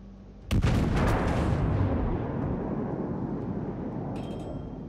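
A naval gun salvo from the Dunkerque battleship in the video game World of Warships: one sudden, massive boom that rolls into a long, loud rumbling decay lasting several seconds, with no talk.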